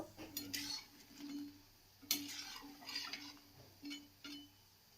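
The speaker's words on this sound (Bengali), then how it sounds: "এখন আমি এটা তেল থেকে তুলে নেব" Lentil and shrimp fritters lifted out of hot frying oil with a metal utensil: a few sharp clinks and scrapes against the pan, spaced over a faint background sizzle, with no talking.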